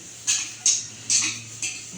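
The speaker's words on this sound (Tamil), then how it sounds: "இப்போ என்ன பாத்திரம் கழுவுற வேலை தான்" Dishes and pots being washed by hand in a home kitchen, four separate clinks and clatters at a steady pace, fairly close, with no talking.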